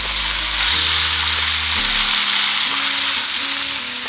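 Coconut heart strips frying with sardines in hot oil, a loud, dense, steady sizzle close by, with faint low hums running beneath it throughout and no talking.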